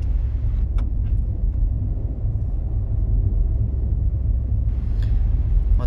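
A small Renault Twingo climbing a hairpin road uphill, its engine and road rumble steady, low and close throughout, with a faint whine rising near the end and no voices.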